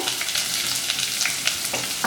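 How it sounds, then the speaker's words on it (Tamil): Steady, close sizzling of onions frying in hot oil for cauliflower masala gravy, loud and continuous, with a few scraping stirs near the end. "இப்போது எண்ணெய் காஞ்சிடுச்சு இதில் பாதி வெங்காயம் மட்டும் போட்டுப்போம்"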